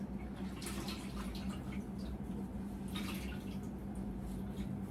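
Water drips and trickles from a towel soaked in warm water during a bed bath, with soft intermittent splashes and patters over a low steady background hum, close and quiet.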